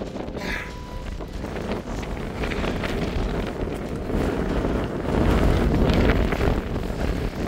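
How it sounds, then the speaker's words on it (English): Strong, steady wind on the summit of An Socach in Scotland roars and buffets against the microphone throughout, a dense low rumble that swells louder toward the end. "It's got very windy."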